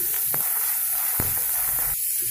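Sliced large onions sauté in hot oil in a pan for Tamil-style tomato rice, giving a steady soft sizzle and hiss with a few brief clinks or stirring knocks, no voices.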